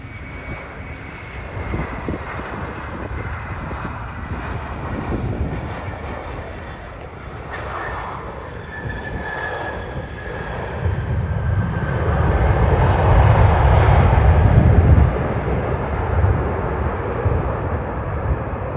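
An American Airlines jet lands on runway 12 Right at Minneapolis, its engine roar a steady drone that swells to a loud peak about two-thirds of the way through and then eases off.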